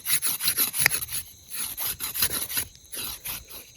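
Puri dough being rolled out with a rolling pin at a night campsite, giving rhythmic back-and-forth rubbing and scraping strokes, close and fairly loud, with brief pauses between passes.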